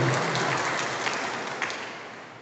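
A church congregation applauds during a Sunday homily, a dense steady clapping from many people that starts loud and slowly fades over a couple of seconds, heard alone without talking.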